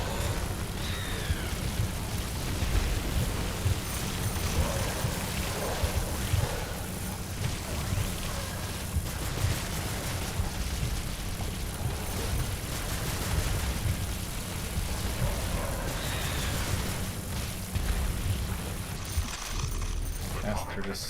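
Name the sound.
creatures spraying lightning in The Riftbreaker video game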